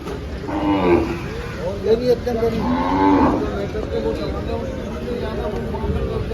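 Gir cows moo loudly in long, drawn-out calls at a cattle market in Dhule, with a busy crowd murmuring and talking in the background.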